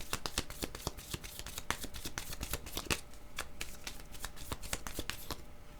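Playing cards are shuffled for a card reading, giving a close, continuous riffling patter of rapid crisp flicks that runs steadily for several seconds with no voices.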